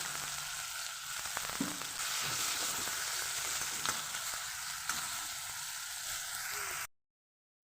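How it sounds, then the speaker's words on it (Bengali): Chopped onions fry in oil in a wok with a steady, dense sizzle, punctuated by occasional scrapes and stirs from a utensil, close and continuous throughout. "দুটো পেঁয়াজকে কুচিয়ে রেখেছিলাম সেটাকে আমি ভালোভাবে ভেজে নেব"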